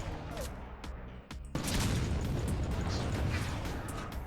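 Missile explosions in Artificial Defense, a continuous barrage of loud booming bursts and pops that erupts suddenly after a brief lull and keeps pounding.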